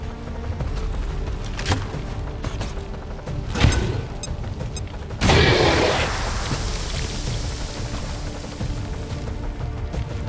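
Frag grenade detonating in XCOM 2: scattered faint thuds lead into one loud, sudden explosion midway, followed by a long rumbling, debris-filled decay over steady background ambience.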